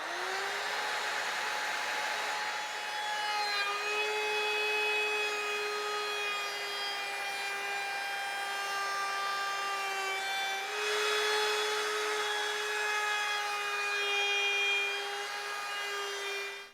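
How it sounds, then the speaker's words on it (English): Electric router with an edge-profile bit cutting along the edge of a wooden board, a loud steady high-pitched whine that holds for the whole stretch, briefly dips and rises again midway, close and alone. "I'm just going to run this bit along the edge of one piece of wood just to show you what it looks like."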